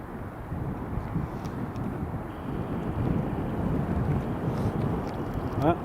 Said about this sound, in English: There's the United taxiing out.